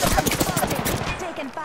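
Rapid automatic gunfire rattles loudly and continuously in Apex Legends, dense overlapping shots filling the whole moment with a short burst at the end.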